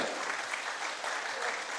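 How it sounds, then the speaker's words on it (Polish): Audience applause at an official chart-show event, a brief steady patter of clapping at moderate distance, fairly faint, with a voice briefly over it. "Gorąca brawa!"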